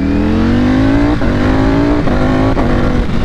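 A 2021 Ducati Panigale V4 SP superbike with a flashed ECU accelerating hard, loud and close, its engine pitch climbing steadily through three quick upshifts, each marked by a brief dip before the roar rises again, with no talking.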